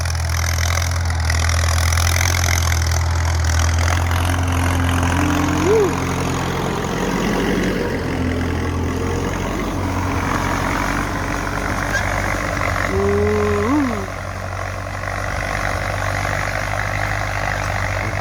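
A Ford 6610 tractor engine runs at a steady idle-like drone throughout, loud and close, with a faint tonal whine rising briefly twice in the background.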